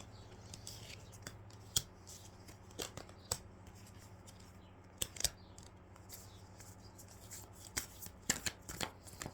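Tarot cards are shuffled by hand, with crisp riffling snaps and soft rubbing swishes coming in irregular bursts against a steady low hum.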